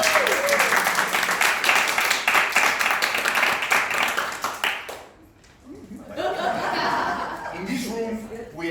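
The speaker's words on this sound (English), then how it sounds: "An applause for me." An audience at an opening speech breaks into lively applause mixed with laughter and chatter for about five seconds, then briefly quiets before voices and scattered laughing pick up again.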